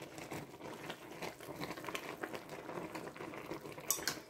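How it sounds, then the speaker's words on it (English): Mustard greens being stirred in a cooking pot: quiet, uneven scraping and soft wet shuffling with a few light clinks of the utensil near the end. "Let's go ahead and stir them around"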